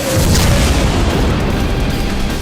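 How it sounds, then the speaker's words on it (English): A loud, dense gunshot boom with a broad rumbling wash that sustains and fades slowly, a heavy blast with reverb, no voices. "Need a little reverb on those gunshots, Sam?"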